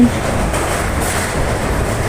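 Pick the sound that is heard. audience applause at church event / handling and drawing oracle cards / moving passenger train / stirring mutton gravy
moving passenger train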